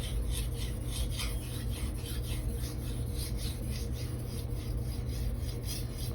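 Steady rhythmic scraping of a knife edge drawn back and forth across a fine whetstone after an 800 stone, close and even strokes with no talking.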